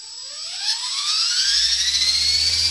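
A Blade 400 RC helicopter rotor spins up indoors, giving a loud close whine that rises steadily in pitch while a low buzzing flutter builds underneath.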